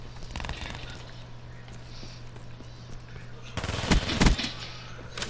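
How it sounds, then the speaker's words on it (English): Gunfire in Call of Duty: Black Ops III, scattered shots early and a louder rapid burst near the end, under players chatting over a steady game hum. "I shoot so much just so like the bullets go somewhere else"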